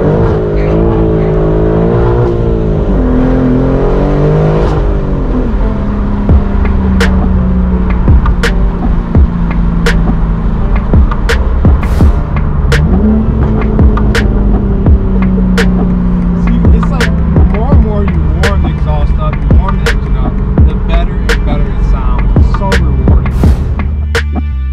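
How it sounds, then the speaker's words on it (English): A BMW M4 G82 with a manual gearbox and a full titanium exhaust roars loudly at full throttle, engine revs climbing and falling through gear changes, with sharp pops and crackles over a constant heavy drone. "enjoying a new exhaust, full throttle on a G80,"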